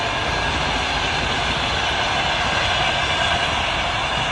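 A train rumbles past close by, a loud, steady roar of wheels and carriages filling the whole stretch without a break.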